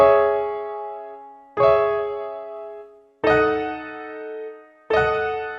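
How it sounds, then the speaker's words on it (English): Four dark, low piano chords for a UK drill beat sound one after another, each struck firmly and left to ring and fade before the next, with no other sound. "This is the piano chords,"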